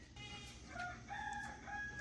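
Rooster crowing with chickens clucking at a farm chicken coop during morning feeding, repeated crows rising over a steady background of hens, fairly close and continuous.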